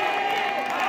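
Spectators hoot and cheer for head coach Monty Desai at the Nepal vs UAE cricket final of the ACC Premier Cup. A steady, dense crowd roar fills the whole moment, with a commentator talking over it.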